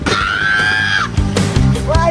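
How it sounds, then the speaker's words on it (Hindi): People on a boat ride yelling and screaming, a sustained shrill cry followed by shorter whoops, loud and close, with engine or water noise underneath. "जरा चीखें भी तो रिकॉर्ड करनी है ना तुम्हारी।"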